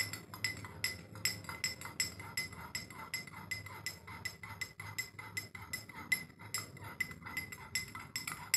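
A spoon clinks rapidly and repeatedly against the inside of a glass in a steady stirring rhythm, close up and fairly quiet, in a classroom lesson.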